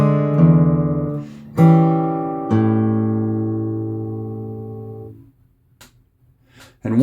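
Fingerstyle acoustic guitar playing measure 21 of a song: three plucked chords with ringing bass notes that slowly fade out, then a few faint string squeaks and taps, close and alone with no voices.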